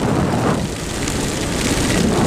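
Heavy rain roars steadily while a motorcycle rides at around 100 km/h, a dense, continuous wash of hiss and rushing wind with no voices.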